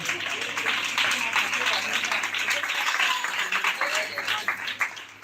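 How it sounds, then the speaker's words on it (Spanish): Congregation applauding for the Lord during a church worship service, a steady wash of clapping filling the room for several seconds amid voices, then tapering slightly toward the end. "aplauso para el Señor"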